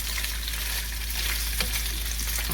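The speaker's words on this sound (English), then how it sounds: "I'm going to turn this beef over and flip it, and we've got some browning going on there now as well." Ground beef browns in a pan with a loud, dense, continuous sizzle and a few faint spatula taps. A constant low hum runs underneath, and nobody speaks.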